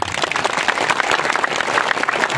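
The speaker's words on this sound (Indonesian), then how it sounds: "Mana tepuk tangannya?" A crowd breaks into brisk, dense applause, many hands clapping together at a steady volume for a couple of seconds.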